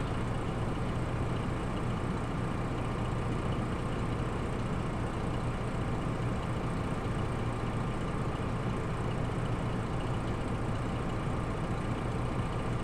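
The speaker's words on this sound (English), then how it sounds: "One thing's for sure, this truck is sure loud." A loud truck engine in a farming video game drones steadily and unchanging throughout, a heavy, rumbling hum with no other sounds.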